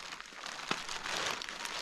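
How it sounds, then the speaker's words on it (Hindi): Rain patters on an umbrella and raincoat during a monsoon morning out with goats on a high mountain meadow, a faint, steady hiss with small crinkling crackles close by. "और बारिश भी लग रही है तो छाता भी ओढ़ रखा है"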